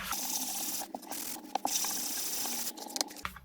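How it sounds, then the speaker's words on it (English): Sandpaper scuffs glossy paper in close, quiet strokes, a raspy rubbing broken by short pauses and a few small taps. "So see the difference between where I've sanded and where I haven't?"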